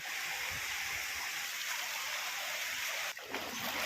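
A stream that is crossed many times and supplies water to rice fields rushes with a steady broadband wash of flowing water, constant and fairly close, with no talking.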